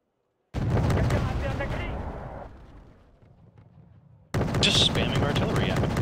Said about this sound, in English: Just spamming artillery at him